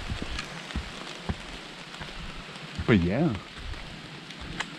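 Steady rain falling around a trail shelter on the Long Trail in the morning after a night thunderstorm, soft continuous patter with scattered drops and a brief voice speaking over it.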